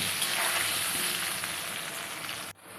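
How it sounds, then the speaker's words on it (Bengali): Potatoes coated in salt and turmeric deep frying in hot oil, a steady loud sizzle and crackle that runs unbroken for most of the stretch, then drops away abruptly near the end. "আমি আলুটাকে লবণ আর হলুদ দিয়ে সুন্দর করে ডিপ ফ্রাই করে তুলে নেব।"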